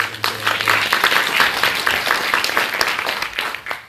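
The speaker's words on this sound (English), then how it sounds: "So a round of applause for Mr. Julian Stodd." Audience applause at a workplace learning conference talk, steady for several seconds, a dense wash of many hands clapping that fades slightly at the end.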